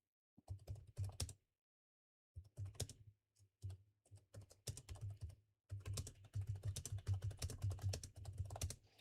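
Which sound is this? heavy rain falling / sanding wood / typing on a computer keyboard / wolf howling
typing on a computer keyboard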